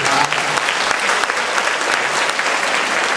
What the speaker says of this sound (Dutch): En applaus voor Ron